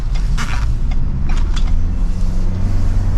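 2023 Ford Bronco Everglades driving on back roads, a steady low road and engine rumble inside the cabin with a few light creaks and rattles over the top.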